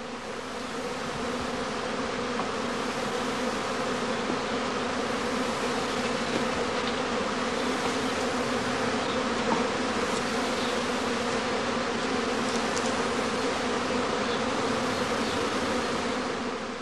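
A honeybee swarm hums steadily at the flight entrance of a straw skep, a dense, continuous close buzz of many insects holding an even level throughout without any talking.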